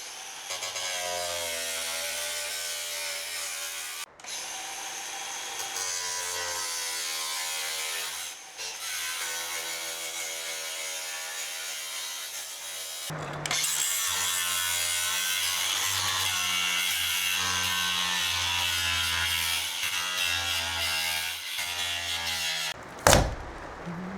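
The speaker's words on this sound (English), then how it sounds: "So I've now grinded off both of the windows" Power grinder cutting away a metal lip on a roof window frame during a roof and insulation job in an off-grid house, a steady loud abrasive whine running continuously with brief dips and a sharp bump near the end, no talking.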